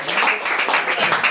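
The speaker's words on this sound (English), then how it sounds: "Come on guys, clap." Audience clapping at an evening stand-up comedy show, a steady patter of many hands filling a short stretch, fairly loud, with no talk over it.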